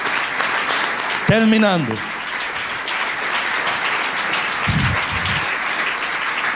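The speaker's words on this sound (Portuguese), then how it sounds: "Aplaude a Deus pela sua vida." Church congregation applauding, dense steady clapping throughout, with a brief voice calling out over it.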